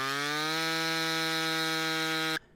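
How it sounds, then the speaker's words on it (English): A tiny CYCPLUS CUBE portable electric bike pump's compressor buzzes steadily up close, a loud droning whine that holds for about two seconds before cutting off abruptly. "One push turns it on, and then two more presses starts the compressor."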